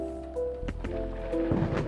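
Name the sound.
thunder and rain in video game Coffee Talk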